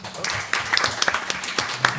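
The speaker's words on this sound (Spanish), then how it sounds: "Aplausos, por favor." Audience applause following a reading of unpublished short stories at a literary event: scattered, moderately loud clapping from a small crowd with a faint voice underneath.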